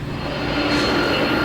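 Jet airliners taxiing on the ramp at LaGuardia Airport ahead of a blizzard, heard as a steady, loud broadband engine roar that swells slightly and holds without letup.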